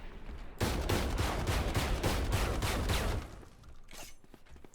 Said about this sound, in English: Get right above their head and just shotgun blast them to the face